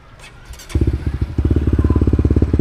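A Honda Winner 150 motorcycle engine revs up after a short quiet start, settling into a loud, close, rapid pulsing exhaust beat that grows steadier and stronger.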